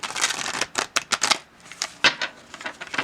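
Tarot cards are shuffled up close in a series of quick riffling bursts, crisp papery flutters separated by brief pauses.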